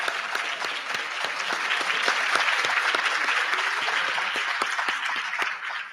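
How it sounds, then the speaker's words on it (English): Sustained applause from a large crowd at a senior honors dinner, dense overlapping clapping at steady loudness throughout, tapering slightly at the end. "Let's give them a round of applause"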